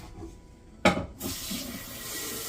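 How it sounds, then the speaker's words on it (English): Tap water runs into a blender jar during rinsing in a home kitchen, a sudden splash followed by a steady hiss of flowing water. "Can you rinse the thing a little bit, the blender a little bit, and pour the water in the"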